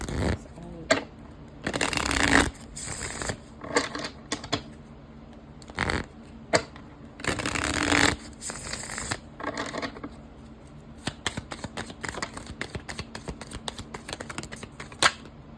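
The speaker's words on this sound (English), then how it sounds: "I think I'll pull some of these cards and see what comes out." Tarot cards being shuffled and pulled from the deck, with several bursts of riffling and rustling and a scatter of sharp card snaps and taps, close up between pauses.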